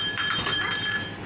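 A train, called a jhuk-jhuk gaadi, runs on rails in Mumbai, giving a brief, close, steady rumble with faint ringing tones and no voices.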